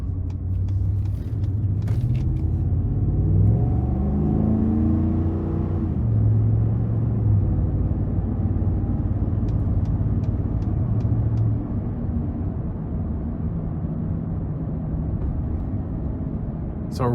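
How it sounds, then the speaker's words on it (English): A 2015 Ford F-150 Lariat pickup with a naturally aspirated 5.0 V8 heard from inside while driving, a low engine rumble with rising and falling revs through gear changes, steady road noise underneath and no talking. "especially with a naturally aspirated V8"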